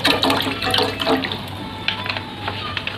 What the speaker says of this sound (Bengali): এখানে আমি একটা পাত্র বসিয়ে দিয়েছি, দেবো কিছুটা জল, একটু পরিমাণ মতো জলটা দিয়ে দেব